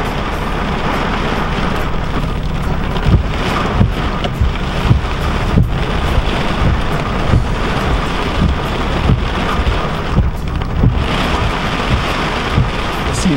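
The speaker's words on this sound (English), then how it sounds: "That's the sound of rain." Steady, dense rain from a small pop-up summer storm falls over open fields, a continuous close hiss with scattered heavier drops and light wind buffeting on the microphone, with no voices.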